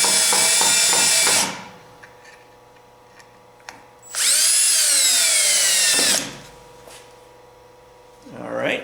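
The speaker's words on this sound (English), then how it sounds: "So I'm just simply going to screw these screws" A power drill drives screws into the inside of a wooden bowl in two loud whirring bursts that rise in pitch, with quiet gaps and a faint knock between them and no talk.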